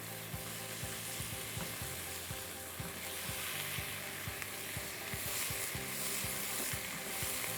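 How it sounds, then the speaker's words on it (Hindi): Beef mince sautéing in olive oil with onion and garlic, a steady close sizzle with crackling pops and occasional stirring, continuous and without talk. "अब इसको आपने बहुत अच्छी तरह सौटे करते रहना है प्याज के साथ, ऑलिव ऑयल और लहसुन के साथ।"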